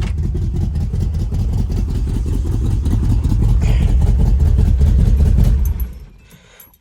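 A long-neglected 1970 Pontiac Tempest engine is revved hard nearby, a loud, rough, sustained roar that holds for several seconds before dropping off sharply near the end.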